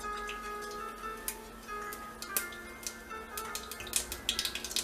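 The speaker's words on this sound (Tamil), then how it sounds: "இப்போது எண்ணெய் காஞ்ச உடனே கடுகு ஆட் பண்ணிடலாம்" Mustard seeds splutter in hot oil in a kadai for a Kerala-style vaala meen fish curry, giving scattered sharp ticks and pops that grow denser toward the end over a faint background hum.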